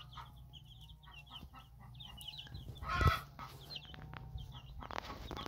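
Chickens on an open field run with a flock of 46 birds give soft, scattered clucks and murmurs through a steady outdoor hum, with one louder squawk in the middle, fairly faint and with no one talking.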